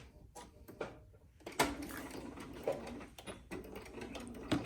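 A sewing machine stitches across a fabric face mask with a pocket, running in quiet close bursts with a soft irregular ticking whir and occasional clicks of handling.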